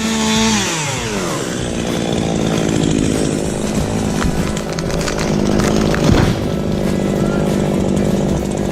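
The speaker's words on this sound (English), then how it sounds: "And that is a tree getting cut down by the Bearded Giant." A chainsaw cuts down a tree, its engine revving up from idle into a loud, steady, close whine that dips and surges as the chain bites into the wood.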